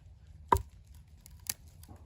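Two sharp taps of a Very Good Knife Company Falcon's fine hollow-ground 80CrV2 steel tip being tested against a surface, one near the half-second mark and a lighter one a second later, alone over a faint low background hum.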